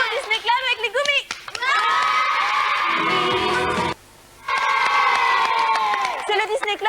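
A French TV studio audience cheers and applauds with enthusiastic crowd shouting, including children's voices, loud and sustained, with a brief dropout midway before the cheering resumes.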